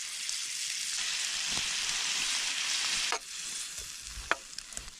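Fresh Alaskan scallops fry in garlic butter in a small pan over a tuna-can alcohol stove in a snowstorm: a loud, hissing sizzle that abruptly drops to a quieter crackle, punctuated by sharp pops and clicks.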